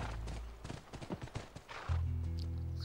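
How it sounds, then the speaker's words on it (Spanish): Horse hooves clip-clopping in a rapid run with a neigh and whinny, in the video game The Last of Us at a ranch, close and loud, then a steady low hum takes over near the end. "Es nuestro caballo. Debe estar ahí."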